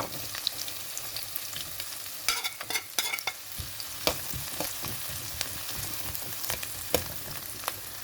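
Garlic and onion sautéing in a pan, a soft continuous sizzle broken by scattered scraping stirs and a cluster of sharper clatters, heard up close and fairly quiet with no talking.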